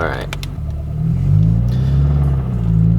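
A car backing out of a residential driveway, with a low, steady engine rumble that swells slightly as it pulls away. Brief voices can be heard near the start.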